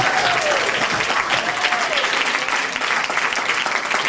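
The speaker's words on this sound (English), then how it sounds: "I think we need another big round of applause." Audience at a children's stage event applauds steadily with dense, continuous clapping throughout, joined by a couple of faint whistles or cheers.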